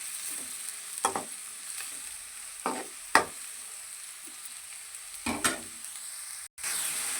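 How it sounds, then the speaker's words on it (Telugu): Onions frying with green chilies in a pan, a soft steady sizzle broken by five or six distinct scraping stir strokes, close and isolated with no voices. "ఉల్లిపాయలు బాగా వేగాలంటే దోరగా"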